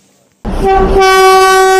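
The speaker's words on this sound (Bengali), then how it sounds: "তো এই তিন ধারিয়া থেকে ট্রেন কিন্তু যাচ্ছে" Darjeeling toy train near Tindharia, heading toward Siliguri, sounds a loud, sustained horn close by after a brief quiet moment, over a low rumble of the passing carriages.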